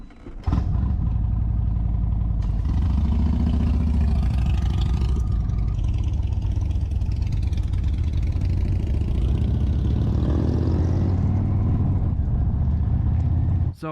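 A motorcycle freshly fitted with a new exhaust and just worked on in a shop, test ridden close by: steady, loud engine drone with idle rumble and occasional revs, running continuously with some faint talk mixed in.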